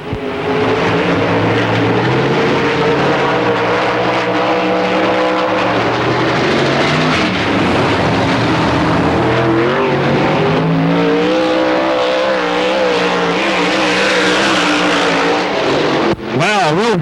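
Race car engine at a 1995 DTWC qualifying session, loud and close, with a strong rising and falling harmonic whine as the car passes. It runs unbroken for most of the stretch and is joined by announcer commentary.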